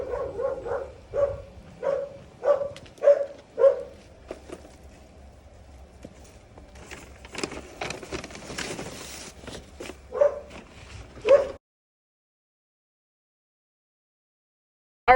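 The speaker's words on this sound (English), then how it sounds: "I hear dogs barking" Dogs bark in a string of sharp, rhythmic yaps from behind a door at a delivery stop on a rainy day, moderately near, with shuffling and rustling between bursts before the sound cuts off.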